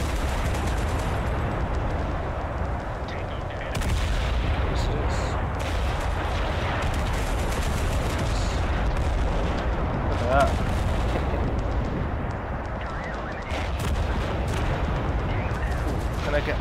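Tank artillery in the war game Total Conflict Resistance fires in heavy, repeated booming blasts over a continuous low rumble of combat. A player talks over the battle noise.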